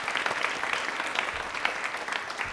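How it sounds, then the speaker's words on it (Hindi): A crowd claps steadily and fairly loudly for a few seconds at a quiz program on the Prime Minister and central government welfare schemes, with dense, even applause and no talking over it. "तालियां प्लीज एक बार जोरदार।"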